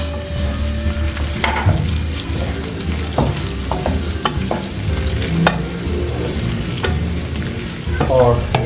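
Finely chopped tomatoes frying and sizzling in a pan of Irani chicken karahi as they are stirred, with a steady loud sizzle broken by scraping and clattering from the spoon against the pan.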